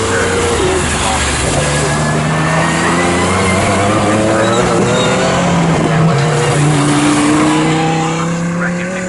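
GT race cars, including a Ferrari and an Aston Martin, racing at Snetterton circuit, engines droning and shifting pitch as they pass, a steady loud blend of motors under continuous commentary.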